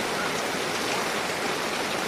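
Steady, dense rain pours down on a Ravan effigy, a loud, even hiss with no pauses and no voices.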